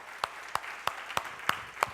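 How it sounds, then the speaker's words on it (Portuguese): Six sharp, evenly spaced claps about a third of a second apart ring out at a church service, steady rhythmic clapping in a moderately quiet room with no talking over it. "Aplauda Ele, aleluia."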